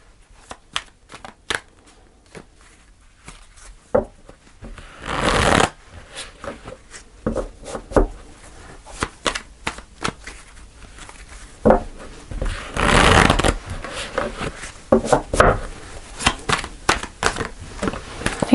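Tarot cards being shuffled in repeated bursts of crisp riffling and snapping, loud and close, with louder shuffles around the middle and near the end and no talking.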